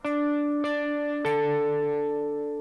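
Plucked electric guitar notes of a rock riff struck one after another and left to sustain, so each new note rings over the last and they blur into a chord.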